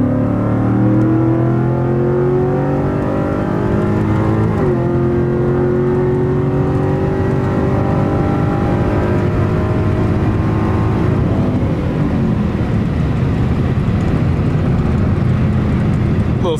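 Cadillac CTS-V pulling hard from about 60 mph in third gear, loud close engine note climbing steadily, one brief dip as it shifts, then rising again with heavy exhaust drone throughout.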